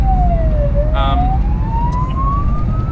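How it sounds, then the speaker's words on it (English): A New Zealand police car siren wails with a sliding pitch, loud and close over heavy motorway rumble, with a brief horn-like blast partway through. "if you see lights and sirens behind you"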